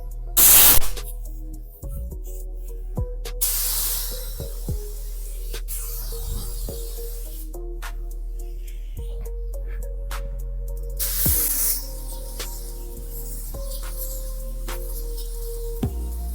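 A spray gun lays down a second clear coat on the front end of an MK3 Supra, giving short hissing bursts with pauses between passes over a steady background hum.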